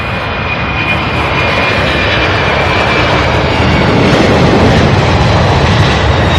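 An MD-11 heavy freighter roars past at Louisville airport, a loud, steady broadband engine rush that holds for several seconds with a faint whine above it and no voices.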